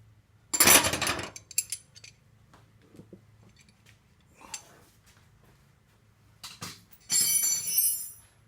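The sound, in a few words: tools and nuts and bolts being moved on a workbench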